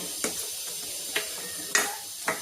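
Cream is stirred into mushroom gravy in a pan, with a spoon scraping and tapping the pan four times at a slow, uneven pace over a steady soft sizzle.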